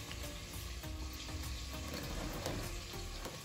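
Onions and mixed vegetables fry in a pan with a steady, quiet sizzle and a faint crackle, broken by occasional soft scrapes of stirring, and no voices.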